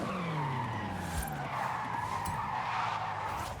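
Tires skid and squeal continuously in a Forza Horizon 5 S1 drag race, loud and close, with an engine tone sweeping downward beneath the screech.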